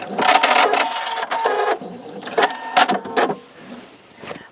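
A sewing machine stitches log cabin quilt block strips in short, loud, close bursts of whirring with pauses between, each run stopping and starting again.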